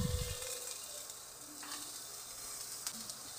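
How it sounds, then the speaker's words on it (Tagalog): Vegetables for shrimp with broccoli sizzle in a hot pan during a stir-fry, a steady close hiss with faint scraping and stirring. "konting gisa-gisa lang at ilagay na natin yung ating mga gulay."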